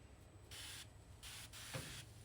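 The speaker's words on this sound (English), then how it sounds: "I'm gonna spray it down a little bit" A spray bottle mists a smoked honey bourbon glazed ham in several quick hissing bursts, close and fairly quiet, with brief pauses between sprays.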